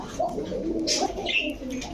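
Pigeons coo at a pigeon market, with deep, soft, rolling coos repeating close by and a few brighter chirps against a low market murmur.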